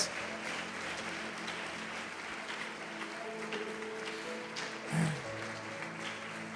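A church congregation applauding, a sustained wash of clapping at a moderate distance for several seconds, with a low hum of voices and a brief swell near the end.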